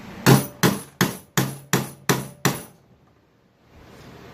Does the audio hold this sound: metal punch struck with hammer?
yes